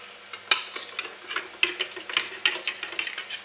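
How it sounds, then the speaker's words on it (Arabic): Soap melting in a pot as it is stirred, a close run of quick tapping scrapes and ticks against the pot's side in an uneven rhythm, with no talking. "نحرك جيدا"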